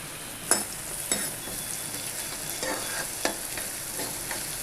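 Finely chopped onions fry with cumin in a hot pan, giving a steady sizzle broken by several distinct scrapes of stirring, close and moderately loud.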